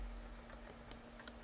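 Faint, sparse keystrokes on a computer keyboard, a few soft isolated clicks over a steady low hum in a quiet room.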